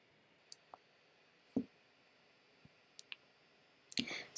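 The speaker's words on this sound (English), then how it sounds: "So click the new project." Faint computer mouse clicks: a handful of quiet, sharp ticks scattered unevenly over a few seconds against a near-silent background, with a slightly louder cluster of clicks near the end.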